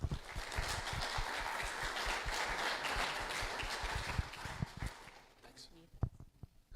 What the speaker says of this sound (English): So let's please give a warm round of applause for Paul Debbie